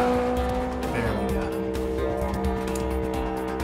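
Cars driving and tires squealing in a video game, with a continuous engine drone and tonal squeals under excited talk from players.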